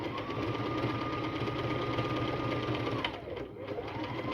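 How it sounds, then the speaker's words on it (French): Close, steady whir of a sewing machine as it runs a backstitch to lock the seam on homemade fabric wipes, the motor slowing and stopping near the end. "On fait ça s'appelle un point d'arrêt et on fait le point d'arrêt en début et en fin de chaque couture."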